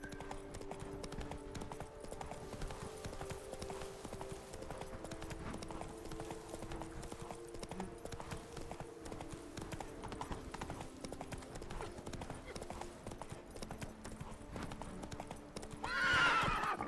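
Horse hooves from Witcher 3: Blood and Wine beat out a steady, continuous clip-clop close up throughout, and a brief whinny rises near the end.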